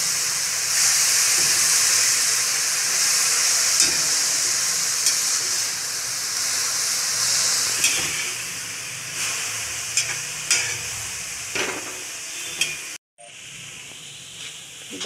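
Dill and moong dal dry stir-fry in a pan, a continuous hissing sizzle with intermittent scraping stirs and clicks, steady and close, briefly cutting out near the end.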